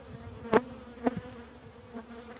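Honeybees buzz around an open hive during a spring inspection, a soft, steady drone close by, broken by a few brief louder knocks or taps.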